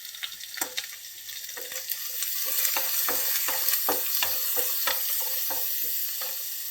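Curry leaves and turmeric fry in oil in a pan alongside onions, giving a soft steady sizzle punctuated by repeated sharp crackles and spatters of stirring, close and alone.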